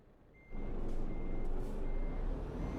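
A truck in Euro Truck Simulator 2 reverses, and steady, evenly spaced warning beeps ring over a loud, constant engine rumble that starts abruptly after a quiet moment. No one talks.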